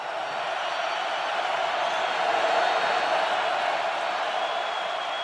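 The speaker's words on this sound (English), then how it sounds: "the crowd's into it" A football stadium crowd at an Indiana Hoosiers vs. Iowa Hawkeyes game, a dense, continuous roar of cheering that swells slightly midway and stays loud throughout.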